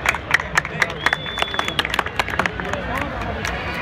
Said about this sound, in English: please give a big applause for the fantastic Afghanistan show